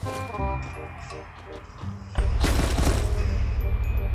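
Shotgun blasts in a video game, loud booming reports with a heavy, sustained burst of gunfire in the second half after quieter game sounds.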